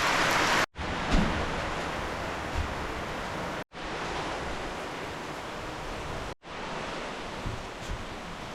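Steady, dense rainfall pours down over a Panama rainforest, an even hiss that fills the air without letup, broken only by a few abrupt, brief cutouts.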